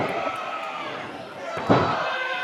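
A wrestler slammed onto the ring canvas at a live wrestling show, a sharp thud standing out over steady crowd noise and an excited commentator.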